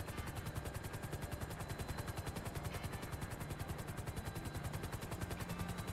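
Helicopter in the video game Grand Theft Auto V, a steady loud rotor chop with rapid regular pulsing throughout, heavy and continuous with no talk over it.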